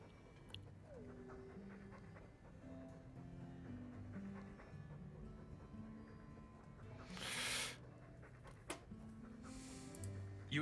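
A dog pants in Dragon Age 2, with a steady rhythmic breathing pattern under in-game music and ambient sound, plus a short burst of noise partway through.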